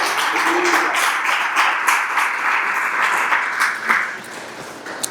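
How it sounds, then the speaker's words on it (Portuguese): A church congregation applauds during a morning worship service, a dense, steady wash of many hands clapping that holds for several seconds before thinning out toward the end, with no talking. "Você pode aplaudir ao Senhor nesta manhã?"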